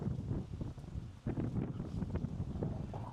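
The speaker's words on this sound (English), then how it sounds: "There's a nice cool wind blowing this way" Cool wind gusting across the harbour port area in Makassar, Sulawesi, rumbling against the microphone in a steady low roar that dips briefly and surges back, close and fairly loud with no voices.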